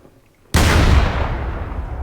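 Artillery cannon in Garry's Mod firing a shell: one sudden, very loud boom after a quiet moment, followed by a long, wide rumbling roar.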